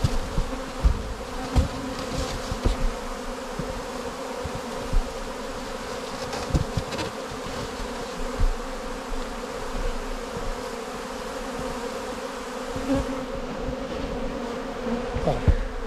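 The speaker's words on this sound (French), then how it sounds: "Donc là, l'ensemble de l'essaim est là." A honeybee swarm hums steadily during removal from an attic, a loud, continuous buzz with scattered sharper taps and clicks throughout.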